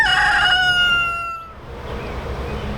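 Rooster on a homestead crows a single loud, close, harmonic-rich call that trails off within about a second and a half, leaving quiet outdoor background noise.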